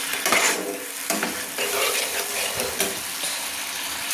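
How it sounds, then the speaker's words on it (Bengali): Spice paste (masala) stirred and fried in an oil-filled pan for a cabbage and egg curry, a steady close sizzle broken by repeated scraping strokes of the spoon, with no talking. "তো এবার আমি মশলাটাকে সুন্দর করে কষে নিচ্ছি।"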